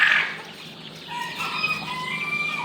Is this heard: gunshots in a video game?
no